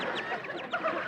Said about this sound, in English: The bird is remarkably tame.